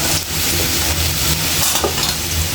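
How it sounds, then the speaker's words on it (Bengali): Steady close-up sizzling of taro corms (kochur mukhi) frying in a pan with onion and turmeric, with occasional stirring scrapes and no voices. "এখন আমার কচুরমুখী ভাজা প্রায় শেষ।"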